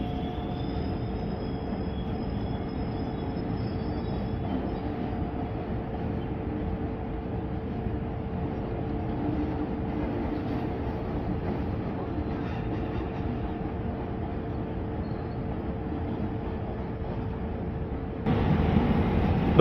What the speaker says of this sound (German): Der Zug nach Köln-Nippes hat Ausfahrt.